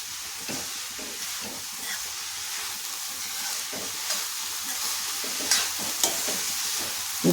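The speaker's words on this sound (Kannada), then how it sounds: "ಮಸಾಲೆಗಳನ್ನೆಲ್ಲ ಪಲ್ಯಕ್ಕೆ ಸೇರಿಸಿದ್ಮೇಲೆ ಒಂದ್ಸಲ ಚೆನ್ನಾಗಿ ಮಿಕ್ಸ್ ಮಾಡ್ಕೊಳ್ಳೋಣ" A spoon stirring spices into a vegetable palya filling in a hot pan, soft sizzling with repeated scraping strokes and a few sharper clinks near the end, close and without talk.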